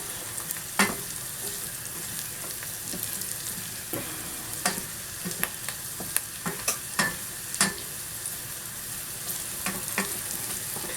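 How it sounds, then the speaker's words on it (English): Cherry tomato soup being stirred in a hot pan, a steady low sizzle with scattered spoon scrapes and taps close by, and no talking. "that is why I'm always stirring"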